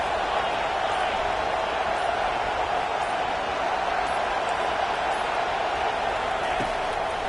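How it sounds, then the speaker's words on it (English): A college football stadium crowd roars steadily for the defense on third down, a dense, sustained wall of cheering that holds at a constant loud level throughout. "Decibels rising as the crowd gets behind this defense on third down."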